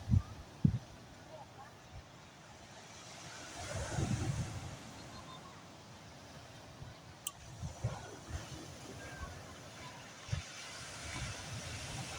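Ocean waves wash against the shore on Jeju Island in South Korea, a soft, continuous surf swelling and easing beneath wind, with occasional knocks and a person speaking at times.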